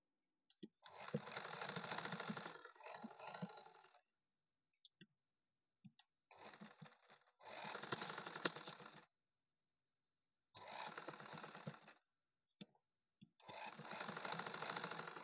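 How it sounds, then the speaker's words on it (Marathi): A sewing machine stitches around blouse cups in several bursts of steady, close whirring, broken by short pauses with small clicks as the fabric is turned. "आता ह्या पण कटोरींना मी अशी पूर्ण शिलाई करून घेत आहे."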